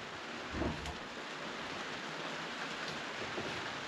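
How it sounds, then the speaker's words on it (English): Steady rain falls on a campground during a storm, a constant soft hiss with a brief low thump near the start, faint and without talking. "Mother Nature has told us that it's going to rain the whole entire time"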